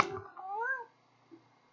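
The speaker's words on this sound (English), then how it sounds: "the cat's gonna join us for our talk" A cat gives a single short, rising-then-falling meow indoors, close and clear, after a brief soft rustle, followed by quiet.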